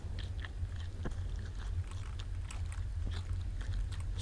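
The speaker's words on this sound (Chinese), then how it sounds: "你咬的声音不是还在吗？" Monster biting and chewing in a horror RPG video game, a steady wet crunching loop with repeated chomps over a constant low rumble.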